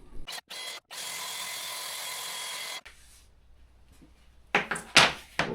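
A Milwaukee M18 cordless track saw cuts through a board with a loud, steady whine for about two seconds, then stops abruptly, followed by quieter handling clatter and a few sharp knocks.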